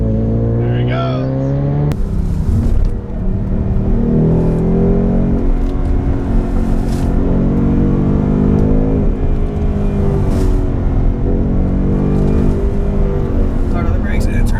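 A 2019 Mustang GT 5.0 PP2 accelerates on the Tail of the Dragon mountain road, a loud, continuous engine roar climbing through gears with repeated pitch sweeps, while voices talk faintly beneath it.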